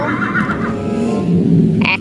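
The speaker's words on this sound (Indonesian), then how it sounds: "Wah, ada kuda zebra teman-teman." A zebra neighs loudly and close by, one sustained whinny with a raspy tone that breaks into a higher squeal at the end.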